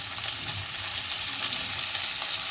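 Small halved potatoes and chopped papaya frying in a pan in a home kitchen, a steady dense hiss of oil sizzling throughout, close and even, with no voices.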